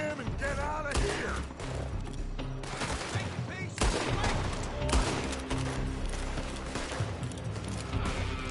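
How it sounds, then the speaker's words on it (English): Dense gunfire in a Red Dead Redemption 2 shootout, with rapid overlapping shots, volleys and a steady battle din over about eight seconds, loud and continuous. "They're shooting from that building!"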